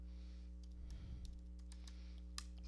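Several light, scattered keystrokes tap on a computer keyboard, quiet and close, over a steady electrical hum with no talking.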